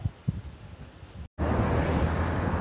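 Wind from a sudden whirlwind roars against the microphone in heavy buffeting gusts, cutting out for an instant and then returning as a loud, steady rush.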